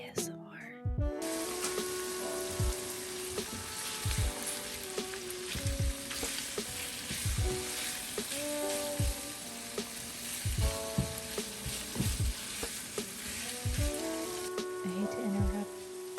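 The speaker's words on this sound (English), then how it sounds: "Here's some sizzle ASMR." Loud, crackling sizzle of a keto pizza casserole frying in a hot pan, with repeated scraping and stirring knocks throughout.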